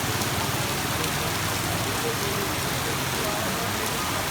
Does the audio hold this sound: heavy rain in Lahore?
yes